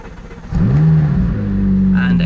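A McLaren 675LT engine firing up from inside the cabin, a sharp starter whir giving way to a loud rising rev that settles into a steady high idle.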